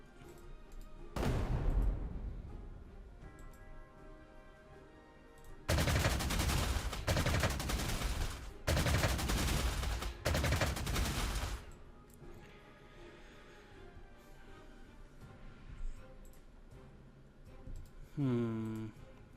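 Bombing attack in the Panzer Corps 2 World War II strategy game, set in the 1939 Poland campaign: a sharp blast, then several loud bursts of explosive rattling fire with short gaps, with quieter clicking and game ambience between them.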